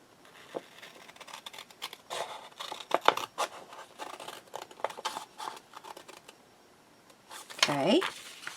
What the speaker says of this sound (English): I'm going to go ahead and cut my straight line.